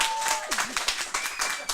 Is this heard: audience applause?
yes